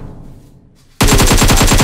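Automatic weapon fire in PUBG Mobile, a loud close burst of rapid evenly spaced shots that starts abruptly after a quiet second of game ambience and runs without a break to the end.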